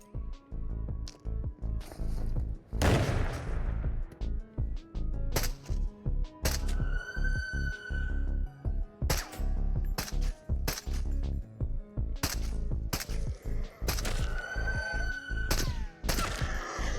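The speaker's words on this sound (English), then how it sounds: "let's go do some shooting" Gunfire in the VR shooter Into the Radius: a rapid series of sharp, close shots in irregular bursts, with metallic clicks and handling noises between them.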